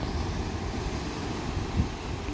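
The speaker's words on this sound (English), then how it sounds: "Waves crashing." Waves crash and wash over a rocky coastline on the East Coast Trail, a steady broadband roar with wind buffeting the microphone and a slightly louder surge near the end.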